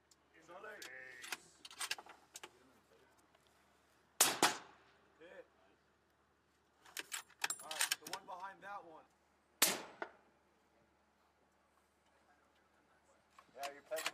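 Sniper rifles firing live rounds on a desert range in Kuwait, a few sharp, loud shots spaced several seconds apart, each with a brief tail, between stretches of people talking.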